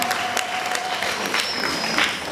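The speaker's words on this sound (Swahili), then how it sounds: "Makofi na vigelegele jamani." Applause from a crowd at a school graduation ceremony, a steady wash of clapping with a thin high ululation-like tone drifting through, continuous and moderately loud with no clear talk.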